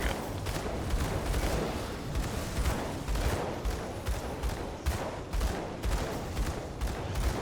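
Dense, continuous gunfire fills a Gunslinger fight wave in an action role-playing game, a steady clatter of overlapping shots and impacts, loud and close with no break.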